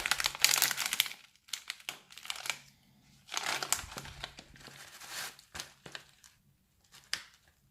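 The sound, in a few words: opening a package of Samui coconut chips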